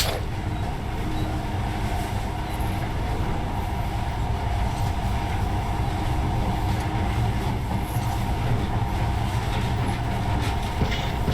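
A monorail train in the video game Metro Last Light Redux rolls along steadily with a constant low rumble and faint rattling, sustained throughout without pause.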